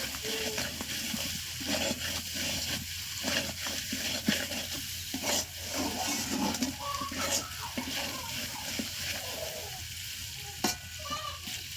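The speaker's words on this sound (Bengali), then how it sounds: "তখন জলটা ঢেলে দিচ্ছি।" Water is poured into a pan of lightly spiced chicken curry that has been fried down, the steady sizzle and bubbling continuing throughout at close range, with faint stirring and no talk.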